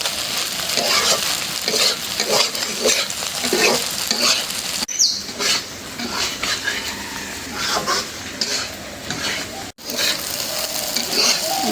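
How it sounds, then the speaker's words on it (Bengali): Fish roe sizzles and crackles steadily in a pan over a lowered flame while being stirred, a close, continuous frying hiss with scraping strokes throughout. "এই যে ভাজা ভাজা করতেছি এখন চুলা জালটা কমাই দিচ্ছি একদম ভাজা ভাজা হয়ে যাবে"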